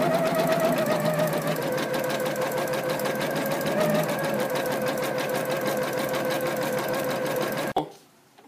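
Computerized sewing machine stitching a Richelieu cutwork embroidery pattern, a loud steady rapid mechanical chatter of needle strokes running continuously, then stopping abruptly near the end.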